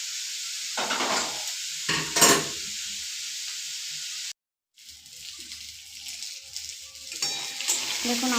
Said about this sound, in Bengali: দেখুন আমার সবজিটা ভাজা হয়ে গেছে।